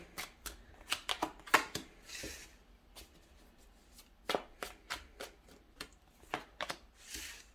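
A Modern Witch Tarot deck being shuffled by hand, close and quiet: crisp riffling card snaps in irregular bursts with short pauses, and no voice.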